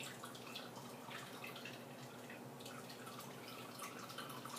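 Raw almond milk pours and drips through a strainer, making a faint, continuous trickle with soft splashy drips and no voices.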